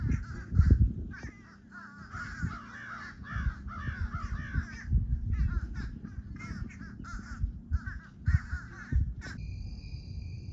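Many crows caw outdoors, loud harsh calls overlapping in irregular bursts from several birds at once, some near and some farther off, with no one speaking.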